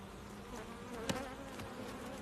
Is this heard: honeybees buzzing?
yes